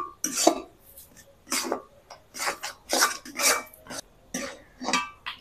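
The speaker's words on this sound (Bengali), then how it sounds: "এবার অনবরত নেড়ে সুজির ডোটা আমি রেডি করে নিচ্ছি" Semolina dough stirred nonstop in a pan, giving repeated scraping and rubbing strokes of the utensil against the metal, close and fairly loud, in an irregular steady rhythm with short pauses between strokes.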